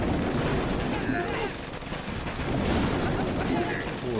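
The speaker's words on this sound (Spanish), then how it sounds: "es que hay tantas minas aquí disparando" Mines fire in the Boom Beach video game as a dense, continuous barrage of gunfire and explosions. The crackling and booming stay loud and fill the whole stretch, with no break.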